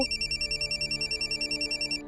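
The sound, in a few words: mobile phone ringing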